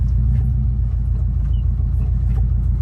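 Subaru Impreza WRX turbo with a 5-speed manual pulling away, its engine a loud, steady low rumble heard from inside the car.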